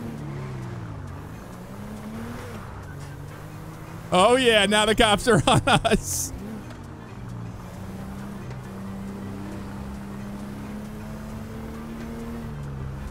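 Car engine in GTA 5 humming steadily through the whole stretch, with a loud burst of rising revs or a siren-like wail in the middle, while someone talks over it.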